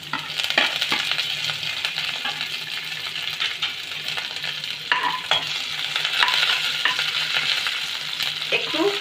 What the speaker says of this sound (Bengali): একটু হালকা করে নেড়ে নেব।